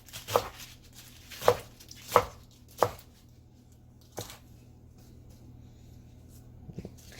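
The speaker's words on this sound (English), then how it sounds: "just cut the rest up into fine little pieces" Ingredients for Chinese egg fried rice are chopped into fine little pieces on a board, with four sharp, fairly loud knife strokes in steady rhythm, then a softer cut and a few faint taps toward the end.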